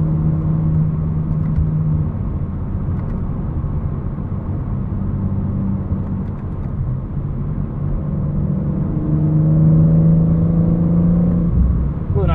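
A 2022 BMW M4 Competition xDrive convertible on Michelin Pilot Sport 4S tires gives a steady, loud roar of tire and road noise at speed, with low engine drone underneath and a rising tone near the end.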